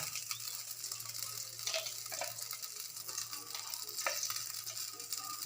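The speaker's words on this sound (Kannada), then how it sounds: "ಈಗ ಮೊದಲಿಗೆ ಬಾಣಲಿಗೆ 3 ಚಮಚ ಎಣ್ಣೆ ಹಾಕೋಣ" Oil heating in a pan while chicken manchurian is cooked, giving a steady, soft sizzle with faint stirring scrapes, close and alone with no talk.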